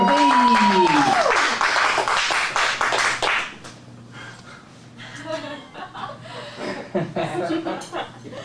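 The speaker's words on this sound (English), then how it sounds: "Round of applause for" An audience claps for a performer at an adult comedy acting showcase, applause swelling loud and dense at first, then thinning into scattered claps and chuckles as it fades.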